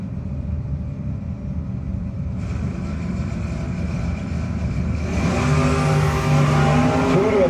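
Drag race cars in a no-box 660 shootout roar down the strip toward the finish line, a steady loud engine rumble that swells and brightens as the cars accelerate past near the end.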